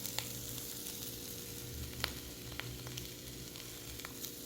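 A tuna sandwich with cheese toasting in a pan gives off a soft, steady sizzle with occasional small pops and crackles, quiet and continuous with no talking.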